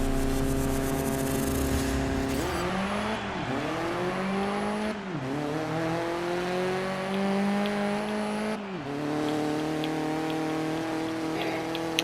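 Race car engines roar steadily in the video game GRID 2019, with pitch falling and climbing through several gear shifts and brief tyre squeal, loud and continuous with no talk.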